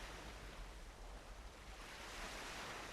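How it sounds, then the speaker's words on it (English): The sea's waves roar as a continuous, dense wash of surf, faint but steady throughout and carrying slight wind buffeting, with no voices. "The sound of the sea is so loud,"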